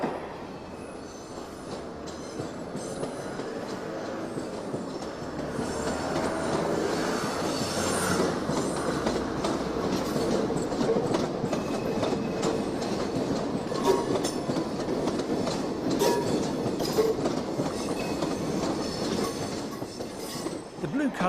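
A Glasgow Blue Train, a first-generation overhead-line electric multiple unit later classed as Class 303, heard from aboard, with a steady rumbling ride, rhythmic wheel clicks and faint squeals building and holding throughout.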